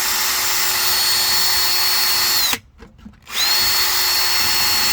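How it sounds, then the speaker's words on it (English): A power drill whirs loudly and steadily as it bores a hole in a plastic bucket, cuts out briefly for a moment of stop-start grinding, then spins back up to full speed. "And so you're going to drill the hole"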